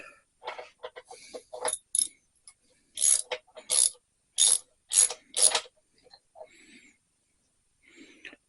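A ratchet wrench on a sealed bottom bracket socket clicks in quick bursts while loosening the bottom bracket on a tandem bicycle's front cranks, with sharp close ratcheting strokes separated by short pauses.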